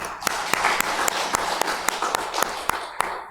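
Korean church congregation clapping in unison, sharp, regular claps about every quarter second over a steady background wash, moderately loud.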